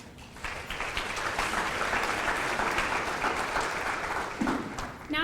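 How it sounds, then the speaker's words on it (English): Crowd applause at a children's beauty pageant, sustained clapping from many hands that swells quickly and holds steady for several seconds before tapering, with a few voices breaking through near the end. "Let's give her a round of applause"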